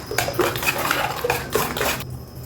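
A spoon stirring china grass powder into a mixture in a bowl for mango jelly cake, a run of clinks and scrapes against the bowl that stops sharply at the end.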